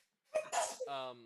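A single close sneeze bursts out abruptly, followed by a brief voiced tail, set amid casual conversation in a room.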